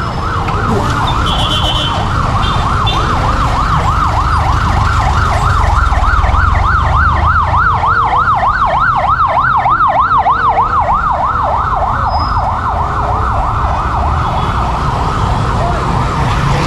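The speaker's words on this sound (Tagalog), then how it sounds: "Mayroong dadaang ambulansya." An ambulance siren wails in a rapid, rising and falling pattern over heavy traffic noise, growing louder as it passes nearby.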